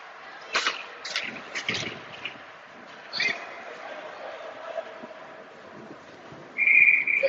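A short, shrill referee whistle blast rings out near the end of a hockey game over faint arena murmur and scattered thuds.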